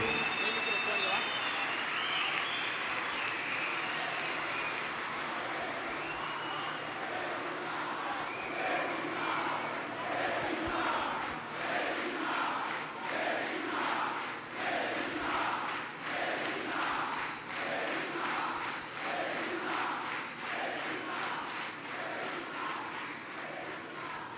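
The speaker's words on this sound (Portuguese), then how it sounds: "Salva de palmas para o meu grande vice." Crowd cheering and clapping for a vice-presidential candidate at a Brazilian presidential campaign announcement, a steady dense roar of applause and shouts that builds into rhythmic chanting, sustained throughout.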